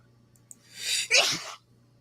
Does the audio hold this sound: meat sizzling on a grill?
no